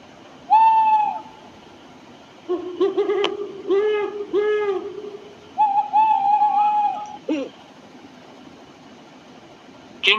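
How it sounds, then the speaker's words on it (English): An owl gives several clear, hollow hoots in separate phrases against a faint background hiss. "Owl."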